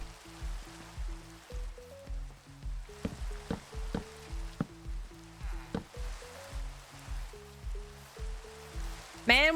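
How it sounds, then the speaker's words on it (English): Steady rain hisses softly over a swamp village in a video game, sitting beneath stepped background music. "Man, why is it raining over here all the time?"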